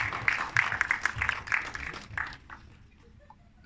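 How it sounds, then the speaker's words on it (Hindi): Applause at a Mumbai media event welcoming actress Reena ji, a moderate burst of clapping lasting a couple of seconds and then fading into quiet room tone. "तालियां बनती है यार।"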